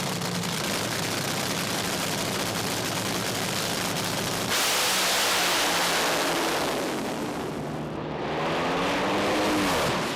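Top fuel dragsters at an IHRA national event thunder off the starting line with a dense, roaring blast that shifts abruptly midway, then sweeps away with a fading, wavering engine howl.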